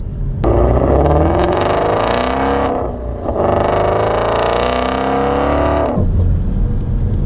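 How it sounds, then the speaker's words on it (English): A 2018 Shelby GT350's naturally aspirated engine revs hard through a gear with a loud intake whoop, drops off briefly as it shifts, then climbs again before easing off, all close and loud with no voices. "every time you hear that naturally aspirated, that whoop, that induction noise"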